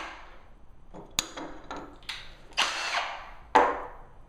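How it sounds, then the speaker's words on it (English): Power drill with a Vix self-centering bit boring a pilot hole into a door hinge during a rental property renovation, heard as several short whirring bursts with sharp clicks, close and fairly quiet. "It centers the hole into the hinge and you've got a pilot right there when you push the drill down."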